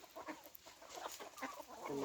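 A farm hen clucks in short, soft bursts with light rustling around it, fairly close and quiet.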